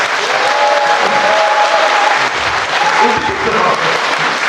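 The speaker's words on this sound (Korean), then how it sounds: "큰 박수 한번 부탁드리겠습니다" Loud, sustained applause from a large crowd at a packed residents' briefing on a joint apartment redevelopment, filling the whole stretch with dense clapping while faint voices and tonal sounds drift underneath.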